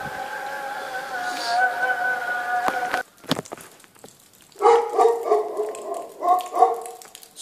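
A dog barks in a series of loud, close, uneven barks at five in the morning during a holiday stay, after a few seconds of steady tonal background sound.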